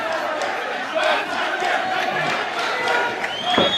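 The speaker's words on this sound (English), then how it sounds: "The crowd is going wild out here in Dubai." A crowd cheers and roars at an MMA fight in Dubai, a dense, continuous wall of shouting and yelling with a few rising peaks, heard at a distance across the arena.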